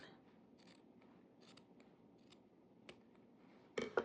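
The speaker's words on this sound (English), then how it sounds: "You can do just a simple diagonal cut," Scissors make a diagonal cut through wired Christmas ribbon, with faint soft snips and clicks leading up to one sharper, louder cut near the end in an otherwise quiet room.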